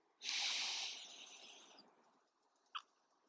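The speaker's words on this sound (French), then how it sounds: "Et j'inspire." A long, airy inhalation during a whole-body mobility stretching session, close and hissing, swelling quickly and then fading over about a second and a half, followed by quiet and a tiny click.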